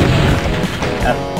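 Exploding barrels shot in the Doom video game: a loud, dense burst of booming blasts filling the short moment, with rumbling low-end crashes close up.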